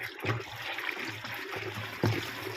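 A herbicide mixture for clearing weeds from a tomato crop is stirred in water with a stick, giving a steady, close watery swishing and sloshing with a sharper knock near the end.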